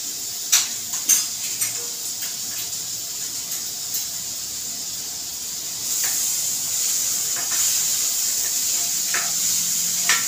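Two large onions frying in a pan over a high gas flame for a village-style chicken curry, a steady close hiss and sizzle with several sharp clinks of a spoon against the pan early on.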